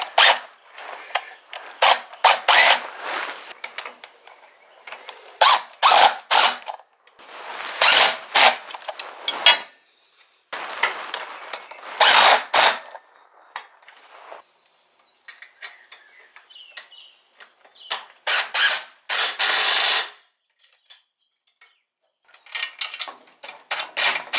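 Frame bolts being snugged down on a Honda CBR/VFR800 hybrid motorcycle, heard as bursts of rapid ratcheting and rasping from a hand tool, repeated in short runs with pauses between, close and fairly loud.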